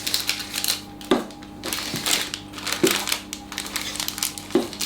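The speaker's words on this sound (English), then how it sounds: "I've got to cut these up, yeah" Knife cutting through chocolate mini eggs on a board, with crunchy cracking and rustling and four sharper chopping knocks at roughly one-second intervals.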